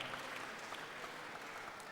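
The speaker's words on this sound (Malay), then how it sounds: "saya berikan bonus ini untuk tepukan yang amat gemuruh kepada anda sekalian" Steady audience applause at a youth program event in Sandakan, Sabah, a dense even patter of many hands clapping throughout, no voices standing out.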